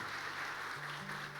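A church congregation claps steadily together during a sermon over a sustained low keyboard tone that shifts pitch partway through.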